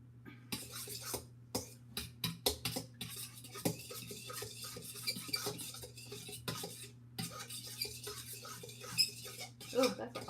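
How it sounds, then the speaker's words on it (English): A fork whisks an egg in a bowl, giving quick, irregular metallic clinks and scrapes against the dish, fairly close and clear, with short pauses between bursts of beating. "you can get a fork out of the drawer and you're gonna whisk up that egg"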